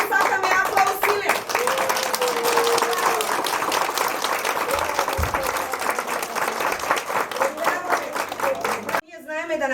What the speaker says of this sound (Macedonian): Колку што беа добри, толку сакаме аплауз силен